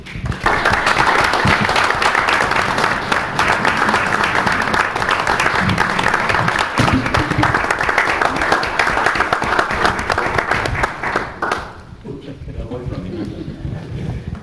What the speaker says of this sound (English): Please join me in a round of applause for Martin Livingston.